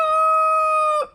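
A rooster crows once, near and loud, in a single sustained call that cuts off sharply at the end, with no talk over it.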